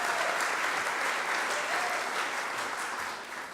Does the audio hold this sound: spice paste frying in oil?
no